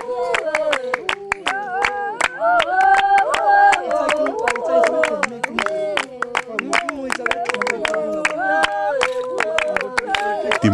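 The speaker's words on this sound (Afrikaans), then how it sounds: "het die vrouens in 'n kring om die vuur gaan sit en ritmies begin hande klap" Bushmen women sit in a circle around a fire and clap their hands in a brisk, steady rhythm, sharp and close, while several voices sing and chant over the clapping throughout.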